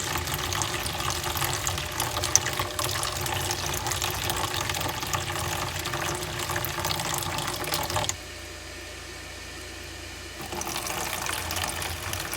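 Water runs steadily from a tap into troughs, a constant rushing splash that briefly drops quieter before resuming.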